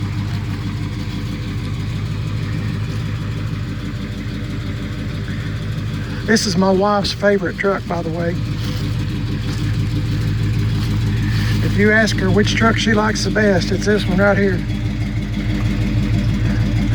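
A 1984 Chevrolet C10 Silverado pickup truck idling after a cold start, a steady low rumbling engine throughout with someone talking over it in two stretches.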